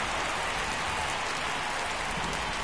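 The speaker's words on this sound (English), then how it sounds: "the field's not going to be able to hold up if the rain gets any worse than this" Steady rain falls on a baseball field during a Royals at Giants MLB game, a constant dense hiss of drops at moderate level with no voices over it.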